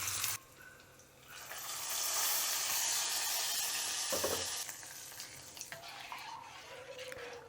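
Hot tempering of asafoetida, curry leaves and red chillies poured onto kokum kol for kolache pohe, a sustained bright sizzle lasting several seconds before fading into quieter clatter.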